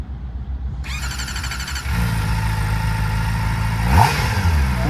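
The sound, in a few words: Kawasaki ZX-4RR motorcycle engine revving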